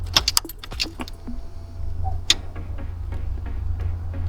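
Ignition key in a Holden HZ one-tonner ute: a bunch of keys jangles and clicks rapidly at first, then a single sharp click as the key turns, over a steady low rumble.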